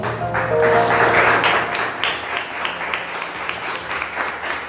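A church congregation applauds steadily in a room, dense clapping that swells and then gradually thins out.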